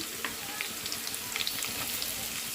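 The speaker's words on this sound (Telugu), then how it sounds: "అలానే కొంచెం క్యారెట్ కొని బాగా ఫ్రై చేసుకున్నాం" Carrots fry in a hot pan for vegetable noodles, a steady close crackling sizzle that runs throughout at even loudness, with faint stirring scrapes mixed in.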